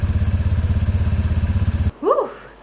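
A motorcycle that has just been started idles with a steady, close, rhythmic low chug for nearly two seconds, then cuts off, leaving a short chirping bird-like sound in the quiet.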